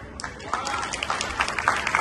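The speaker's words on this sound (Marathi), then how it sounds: "या टाळ्या माझ्यासाठी होत्या असं मी गृहीत करतो" An audience at a children's Ramayan performance for a Gudi Padwa event in Kuala Lumpur claps briefly, a light patter of applause partly under a speaking voice.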